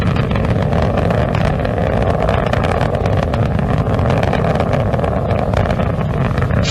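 Space Shuttle Atlantis main engines on launch from Kennedy Space Center, a loud, steady, continuous roar filling the whole clip without a break, with no voices over it.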